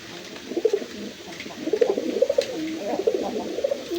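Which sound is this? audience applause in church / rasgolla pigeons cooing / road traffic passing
rasgolla pigeons cooing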